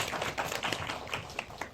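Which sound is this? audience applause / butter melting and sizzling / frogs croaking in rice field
audience applause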